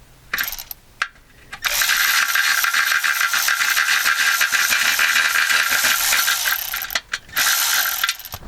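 Ratchet fitted with a flex socket turning bolts beneath a VW Touareg, a rapid, close clicking run that goes on for several seconds after a few brief starts, with no talk.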